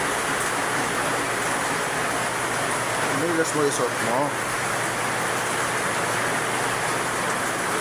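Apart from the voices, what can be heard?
heavy rain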